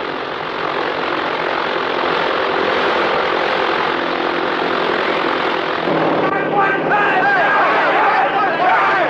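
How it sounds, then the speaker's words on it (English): A propeller airplane engine runs inside a hangar in a 1941 comedy film, giving a loud, steady droning roar throughout, with voices joining in over the last few seconds. "What's that noise? Well, that's one of those planes over there."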